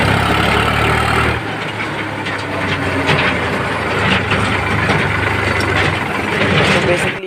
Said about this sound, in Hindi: तो चलिए अब इस ट्रैक्टर को ले चलते हैं उस साइड